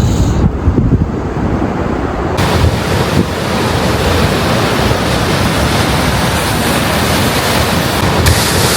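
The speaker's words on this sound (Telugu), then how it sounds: "చూడండి అలలు ఎంత ప్రశాంతంగా ఉన్నాయో." Steady broadband roar of surf on a Pacific beach at sunset, continuous and fairly loud with wind buffeting the microphone, no voices.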